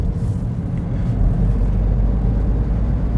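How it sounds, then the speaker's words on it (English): A Smart diesel car with its automatic gearbox, heard from inside while driving: a loud, steady low engine and road rumble droning throughout, with no distinct gear change standing out and no talk. "you just leave the gearbox doing its thing and it just sort of gets on with it really"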